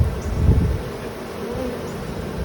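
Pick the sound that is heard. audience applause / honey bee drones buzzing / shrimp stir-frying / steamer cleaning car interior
honey bee drones buzzing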